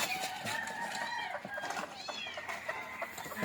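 Chickens clucking and squawking on a small farm during feeding, several birds calling over each other in short rising cries, fairly faint amid outdoor background noise.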